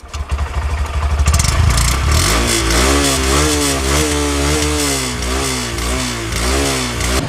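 A 2021 Honda SP 125 Disc BS6 motorcycle's engine kicks in after a brief clatter, then revs up and down repeatedly in close, loud rising and falling sweeps.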